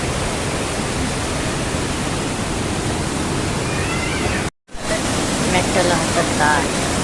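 Bheemeshwara waterfall gives a steady, dense roar of rushing water that stays even and close throughout, broken only by a brief dropout to silence near the end before the rush resumes.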